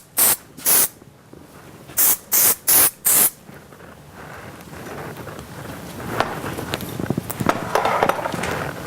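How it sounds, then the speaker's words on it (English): Several sharp bursts of hairspray, including Theory firm-hold spray, misted over finished surface-knotted hair at close range, then quieter rustling and handling sounds with no speech. "We're going to go ahead and give it a final mist with our theory firm."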